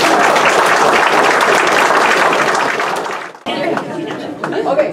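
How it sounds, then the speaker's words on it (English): Audience applause at a school's 50th anniversary opening ceremony, loud dense clapping filling the hall for about three seconds, then breaking off abruptly into quieter scattered claps that swell again toward the end. "I'm going to give you a round of applause"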